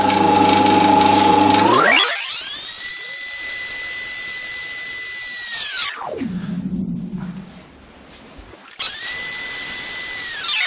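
An electric drill spins up to a high whine, drilling pin holes and a lanyard hole through a steel bushcraft knife blank, with grinding between, then winds down and starts again, loud and close.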